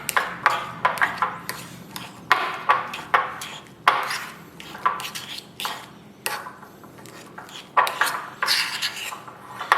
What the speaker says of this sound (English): we'll mash these with a fork and mix in the mustard and the mayonnaise